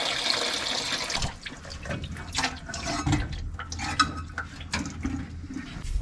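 Fluid from a car hose splashing and gurgling into a drain pan beneath the vehicle, a steady wet pouring with metallic clinks and knocks over it, close and continuous.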